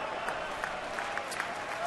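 A stadium crowd of over 27,000 at a baseball game cheers steadily for the leadoff hitter, a broad continuous roar heard at a distance with faint claps rising through it.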